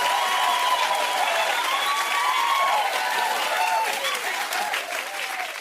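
Audience applause in a studio-show style, a loud continuous wash of clapping with faint cheering mixed in, sustained evenly for several seconds before easing slightly toward the end.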